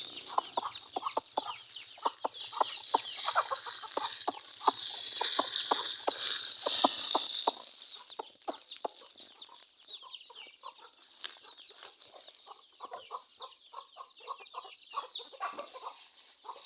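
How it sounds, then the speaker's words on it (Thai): Chickens cluck busily at morning feeding time, a dense, close chatter of clucks and peeps that thins out to scattered calls after several seconds, with faint rustling underneath. "ให้อาหารไก่"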